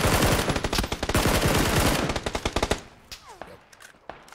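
Rapid automatic gunfire rattles close and loud in PUBG as shots pour into a vehicle, a dense burst of cracks lasting a couple of seconds before tapering into scattered single shots and quiet.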